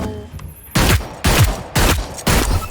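An upgraded weapon firing in the video game Hyperscape: four loud, sharp gunshots evenly spaced about half a second apart, each with a short booming tail, close and isolated.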